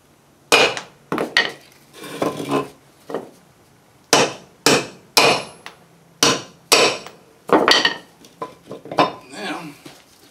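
A hammer taps on a brake drum during a 1985 Chevy K10 restoration, sharp metallic knocks in irregular clusters, loud and close, with no talk.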